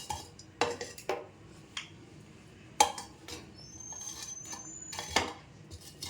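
Lumps of asafoetida are pressed and roasted in a pan, with sharp metallic scrapes and clanks of a utensil against the pan coming in irregular bursts over a quiet background.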